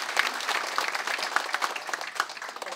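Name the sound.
applause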